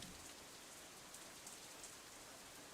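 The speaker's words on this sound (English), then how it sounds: "Raindrops hitting the umbrella make a distinctive sound, playing the staccato melody of rainfall for nobody in particular." Steady rain patters on an umbrella in the visual novel game Katawa Shoujo, a dense, even hiss of drops with faint individual taps, continuous and alone without voices.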